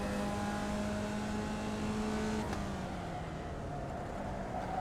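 Race car engines in a racing video game drone steadily at a constant level, one sustained engine tone holding before easing lower partway through, with a broad rumble underneath and no talking.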